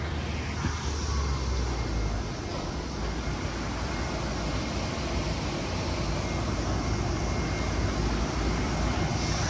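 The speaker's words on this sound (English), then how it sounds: "This is one of our aircraft." Inside a propeller aircraft in flight, a loud constant engine drone and broad rushing roar fill the cabin steadily without a break or any voices.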